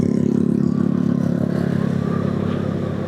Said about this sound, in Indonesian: Kok dengerin suara knalpot dia aja kita.